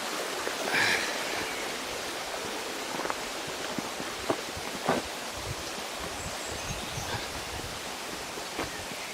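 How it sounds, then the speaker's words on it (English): Luddenden Brook flowing through the Luddenden valley, a steady broadband rush of water with occasional brighter splashes and rustles, heard close and continuous without speech. "Luddenden Brook again."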